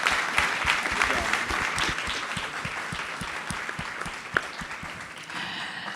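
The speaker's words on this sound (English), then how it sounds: "Can we get one more round of applause for our panelists?" An audience applauds conference panelists with sustained, even clapping that fills the room, a few sharper claps standing out near the front before it begins to taper off.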